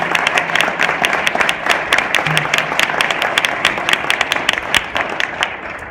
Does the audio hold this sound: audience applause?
yes